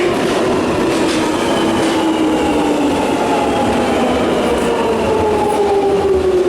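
A London Underground train rumbles loudly and continuously, with a rising whine of the motors and a steady roar of the carriage throughout.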